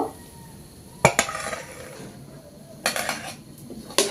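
A pan of coconut filling sweetened with milk powder is lifted off the stove for bhapa puli pitha, giving sharp metallic clinks and scrapes in three short bursts with quiet kitchen noise between.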